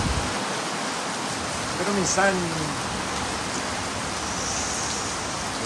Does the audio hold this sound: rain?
yes